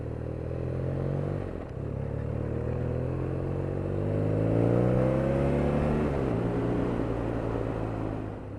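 A 2017 BMW R NineT Urban G/S motorcycle engine hums steadily while cruising at 25-30 mph, pitch rising and falling gently with speed, close and continuous with wind rush.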